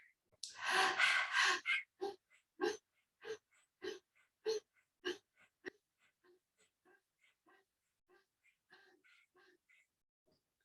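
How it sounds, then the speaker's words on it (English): Swan Pranayam yoga breathing, done with the tongue out like a panting dog, comes as a rhythmic series of about a dozen sharp, forceful breaths, loudest at the start and then growing fainter and softer. "we stick our tongue out to do the panting dog pranayam called Swan Pranayam"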